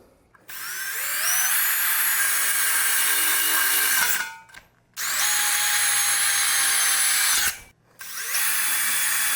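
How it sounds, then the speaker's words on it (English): A power drill drills holes during a mod build, running in three long whining bursts with short pauses between them, its pitch rising as it spins up, loud and close. "now that we're done drilling"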